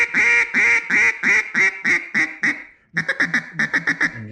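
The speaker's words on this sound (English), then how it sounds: "it's ready to call in some ducks." A hand-blown duck call with a freshly cut cork sounds a run of about eight loud, nasal quacks, pauses briefly, then gives a quicker, choppier burst of shorter quacks, close and alone.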